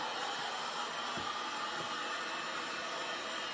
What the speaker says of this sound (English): So all I did was heat the plastic.